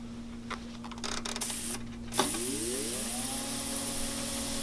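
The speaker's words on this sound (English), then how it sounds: "Placed cover on the ultrasonic cleaner and activated a 10 minute cycle." An ultrasonic cleaner in a dental sterilization center starts a cleaning cycle: a few clicks and clatters of the cover and controls, then a steady hum and whine with rising tones settling into a continuous drone.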